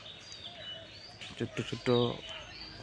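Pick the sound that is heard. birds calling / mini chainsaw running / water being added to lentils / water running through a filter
birds calling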